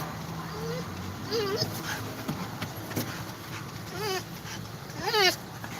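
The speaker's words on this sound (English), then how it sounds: "What is that your dog?" A dog near a parked vehicle gives short, rising yips and whiny barks in several bursts, heard among people talking and a steady background hum.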